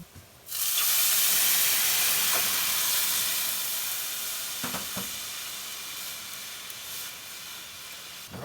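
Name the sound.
butternut squash sauteing in a pan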